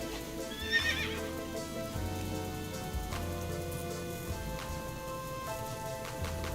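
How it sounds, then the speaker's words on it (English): In a fantasy video game, a horse whinnies once near the start, then its hooves clip-clop steadily over a continuous bed of ambient game music and atmosphere, with no talking. "whipping out our horse is a good idea"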